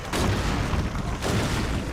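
Trebuchet attack in Age of Empires: Castle Siege: a loud, dense booming crash of impact with rumbling debris filling the whole short stretch, no talk.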